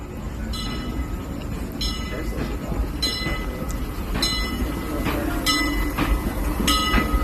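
Disneyland Railroad's E.P. Ripley steam train runs as the sweeper train at a station, giving a steady rolling rumble with recurring rhythmic clanks from the cars, close and continuous with faint voices around.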